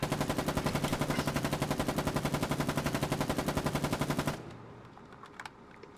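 Rapid automatic gunfire in a video game: a fast, steady burst of evenly spaced shots lasts about four seconds, then cuts off, leaving a quiet background with a few faint clicks.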